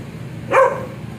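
A single short dog bark rings out nearby, loud and sharp against a quiet background.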